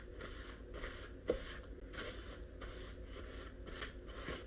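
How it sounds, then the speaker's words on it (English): Old rag wiping excess paint off a small DIY farmhouse Valentine's frame, soft repeated rubbing strokes in a steady rhythm, close and quiet, with one brief sharper scrape midway. "So I'm going to wipe it off a little bit with my napkin, just to get some of the excess off."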